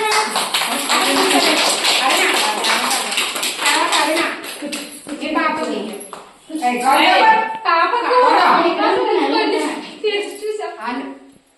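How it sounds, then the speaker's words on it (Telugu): Young children at an anganwadi centre's ECCE Day event clap their hands together in a dense, sustained burst of group applause, with adult speech and children's voices mixed in. "క్లాస్ కొట్టండి."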